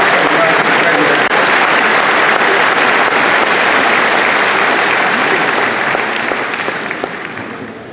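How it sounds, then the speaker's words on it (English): Large convention hall audience at the 2018 Lions International Convention applauding past presidents, a loud, dense and steady wash of clapping that holds for several seconds before starting to fade. "Once again, a big, big round of applause for our past presidents."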